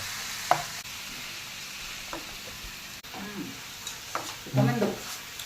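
Tomato and onion sauté with turmeric and salt for a home-style chicken roast: a few sparse spoon scrapes and clinks against the pan over a faint, low sizzle, quiet and close.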